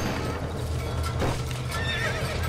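A horse whinnies amid clip-clopping hooves and crackling background noise in the video game Red Dead Redemption, a loud, continuous commotion with no clear speech.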